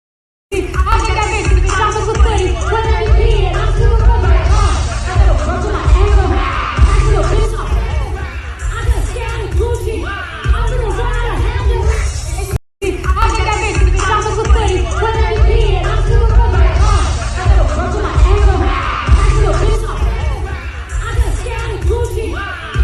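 A large concert crowd at the Rolling Loud Thailand music festival makes a dense, continuous wash of shouting and chatter with scattered cheers, loud and sustained, briefly cut midway.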